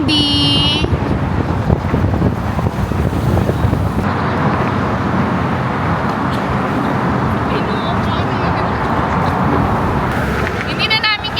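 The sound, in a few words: strong wind near Golden Gate Bridge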